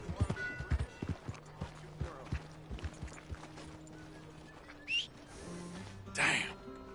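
Horse hooves clip-clop in a video game, a loose run of soft clops early on that fades behind game voices and ambient sounds.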